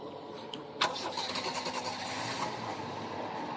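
Toyota Corolla engine cranking and catching with a sharp start, then settling into a steady idle, heard fairly close.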